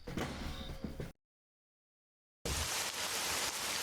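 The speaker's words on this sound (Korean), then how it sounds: "뭐야, 비가 오네?" Steady rain falls outside in a horror video game set in an apartment, a broadband hiss cut off by a gap of near silence before resuming, with no voices.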